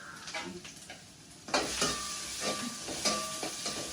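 Food sautés in a pan while fish curry is cooked, a steady sizzle with scraping stir strokes that grow louder midway, no voices.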